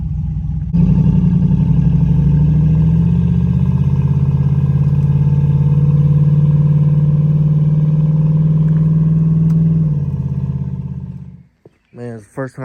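Nissan Z with a newly installed engine idling steadily and loudly up close for about ten seconds before it cuts off, followed by brief talking.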